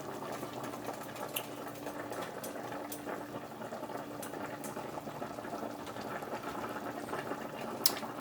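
Large pot of shrimp boil simmering, a faint steady bubbling with soft crackles and occasional small pops, quiet and continuous with no talk.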